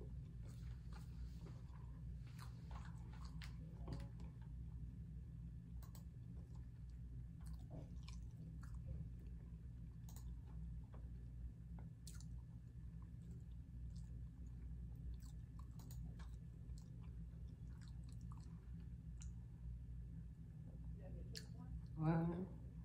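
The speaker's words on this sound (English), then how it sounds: "I have to eat like 1 or 2 fries with each bite." Quiet, close chewing of a McDonald's Filet-O-Fish with fries, soft irregular bites and mouth sounds over a low steady background hum, with a slightly louder crunch near the end.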